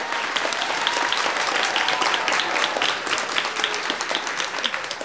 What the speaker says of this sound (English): I would like to give a huge round of applause to our pianist, Mr. Ian Howells.